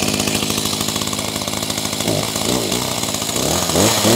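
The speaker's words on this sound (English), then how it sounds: "I'm going to go ahead and reinstall this on the chainsaw, and we're going to see if it works" A chainsaw engine, just fitted with a replacement spark plug boot, runs loud and steady, its rapid buzzing idle surging into higher revving bursts partway through.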